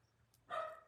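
A pet dog indoors lets out one short bark, faint and somewhat distant, after a brief soft noise before it.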